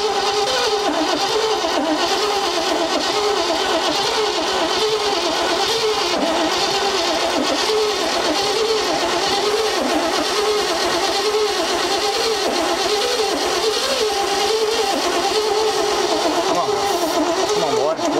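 A 1957 Chevy Viking truck engine, left abandoned for 50 years, cranks and runs roughly with a loud, uneven, pulsing mechanical drone that lasts throughout, close to the listener.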